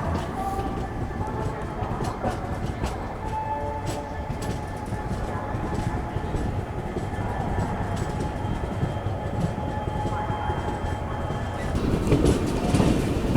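Holiday Special Express sleeper train pulling out of a station at night, a continuous rumble of rolling wagons with faint wheel clatter and occasional squeals, moderately distant, with background voices.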